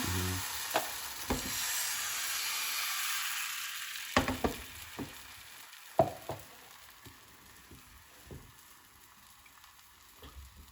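A thin crepe cooks in a lightly oiled non-stick pan, giving a soft steady sizzle that fades after a few seconds, followed by scattered clicks and taps of a utensil against the pan.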